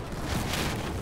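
A grenade blast in the Battlefield 4 shooter game lands as one brief, loud, rumbling boom during an online match.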